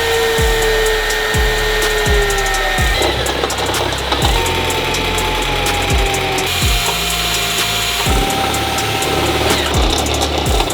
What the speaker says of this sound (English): we're gonna drill 4 holes in the chassis for the license plate bracket